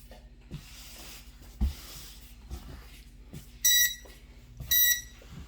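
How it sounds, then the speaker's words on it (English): A heat press timer alarm sounds in two short bursts of rapid, shrill beeping near the end, after a few soft knocks and thumps over a low steady hum. "Alright, the timer is up."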